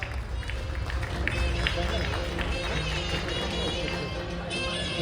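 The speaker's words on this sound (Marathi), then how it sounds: "सर्व स्पर्धकांसाठी जोरदार टाळ्या वाजवा." A crowd applauds and cheers for bodybuilding contestants at a gym physique competition, a dense steady roar of clapping and voices filling the whole stretch at close range.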